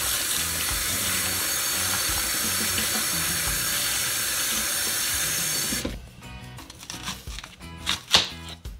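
Running tap water rinsing vegetables for Jamaican ital stew peas in a kitchen sink, a steady broadband rush for most of the clip that suddenly stops, leaving handling clatter and small splashes.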